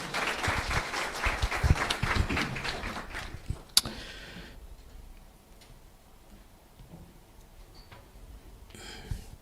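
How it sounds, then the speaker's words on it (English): An audience at a seminar on a borderless Africa applauds a speaker with a dense burst of clapping that fades out after about four seconds, leaving a quiet room with faint rustling. "Kindly welcome him with a round of applause."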